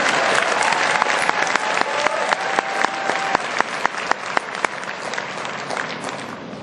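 An audience applauds loudly and steadily at a Korean talk, the clapping dense and continuous with sharp individual claps standing out throughout.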